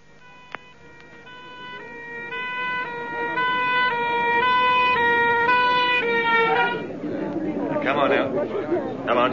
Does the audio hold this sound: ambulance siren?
yes